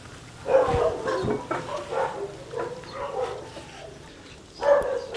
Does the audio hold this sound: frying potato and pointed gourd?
no